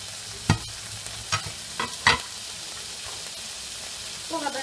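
Onion frying in hot vegetable oil in a pan, with a steady sizzle and several short scraping stirs, then a faint voice-like sound at the very end.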